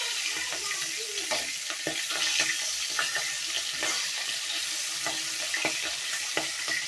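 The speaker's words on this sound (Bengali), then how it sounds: "মাছটা ভাজা হয়ে গেছে অলরেডি" Pieces of hilsa fish fry in hot oil in a pan with a continuous crackling sizzle, broken by irregular taps and clinks as the pieces are turned; no one speaks.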